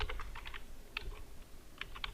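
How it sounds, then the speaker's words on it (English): Computer keyboard typing at a desk, quick bursts of separate key clicks with short pauses between groups, fairly close and alone over a faint room hiss. "I'll type your name,"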